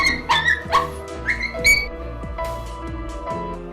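A dog whimpers and yips in high, wavering whines, several short cries in a row, close and fairly loud with no talking.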